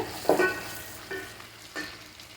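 Onions and rice ingredients fry in a pan for pepper rice, a close sizzle with sharp spoon scrapes and clinks at a few points, no one speaking.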